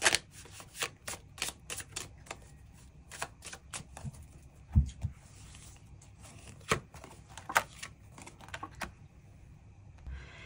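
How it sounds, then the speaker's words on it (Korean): Tarot cards shuffled and drawn at a table, a series of quick crisp riffles and soft flicks in irregular bursts, close and fairly quiet with no talk. "추가 카드 뽑아보도록 하겠습니다"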